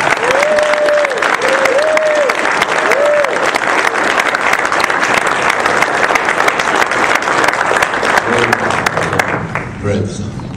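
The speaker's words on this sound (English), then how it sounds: "let's give him a big round of applause for that." Loud, sustained applause from a large crowd fills the space, steady throughout, with a few whoops and a voice briefly rising above the clapping near the end.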